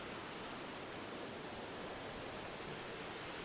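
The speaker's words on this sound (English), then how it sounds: "this definitely is an island surrounded by waterfalls" Rushing waterfalls surround an island in Snowdonia, a loud, steady broadband roar of falling water that fills the whole stretch without a break.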